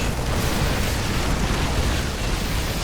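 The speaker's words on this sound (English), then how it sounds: "Oh, siege tanks hitting that from range." Siege tanks in StarCraft fire from range during a large battle: a dense, unbroken wall of booming blasts and explosions, loud and continuous with no pauses.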